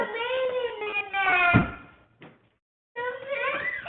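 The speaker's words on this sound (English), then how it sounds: "Go shut the door now." A door in a home is shut with a single solid thud partway through, heard under a raised, whining voice, followed by a brief quiet before the voice resumes.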